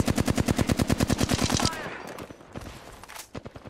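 Rapid automatic gunfire in the video game Apex Legends, a fast even burst of close, loud shots for about a second and a half, then a few scattered distant shots over quieter background.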